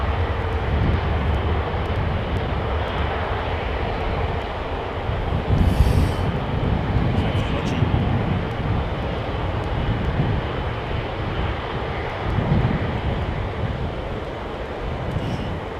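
An airliner taxiing at London Heathrow Airport, with a steady broadband jet roar holding at a moderate distance for the whole stretch and slight swells in level, with no talking.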